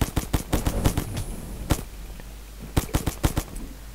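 Rapid bursts of gunfire from shooting zombies in Zumbi Blocks 2, sharp cracks in fast strings that pause briefly and then resume, loud and close.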